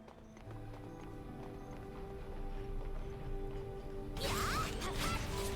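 Horse-bird creatures in the video game Harvestella clip-clop in steady game audio, with a louder burst of hooves and crashing impacts near the end.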